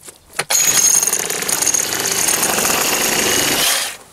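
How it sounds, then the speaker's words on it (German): Rapid, continuous mechanical hammering, loud and close, starting abruptly and running steadily for several seconds before cutting off. "Ich muss jetzt noch ein bisschen hämmern."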